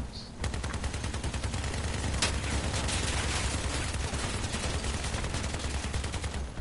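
Rapid gunfire from weapons in the vehicle-combat game Crossout, dense overlapping bursts running nearly continuously with a sharp louder shot partway through, over a low engine rumble.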